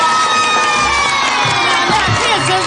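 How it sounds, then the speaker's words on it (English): A crowd of children cheers and shouts excitedly in a loud, continuous roar of overlapping voices that stays close and fills the whole moment. "there's no need for all this excessive cheering"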